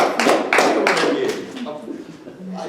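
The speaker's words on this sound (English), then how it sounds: "Let's clap it up a little high," A group clapping hands during a gathering, several loud distinct claps in the first half that thin out and fade, mixed with talking voices.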